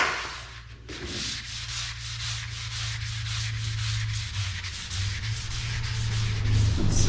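Steady back-and-forth sanding on a project piece makes a rhythmic, close, raspy scraping with evenly spaced strokes that continue unbroken without talk.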